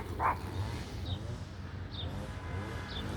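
Dog barking outdoors in a rural garden: a single faint, distant bark near the start over a steady low rumble of background noise, followed by a few soft high chirps.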